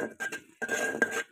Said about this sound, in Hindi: हम तेज़ी से इसमें चम्मच चला रहे हैं ताकि ये नीचे ना जल ना जाए